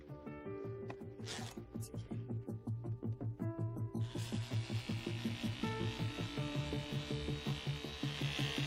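Electric clippers shave the pads under a large dog's feet, a close, steady buzzing hum that starts partway through and keeps pulsing as the blade moves, with some handling noise beforehand.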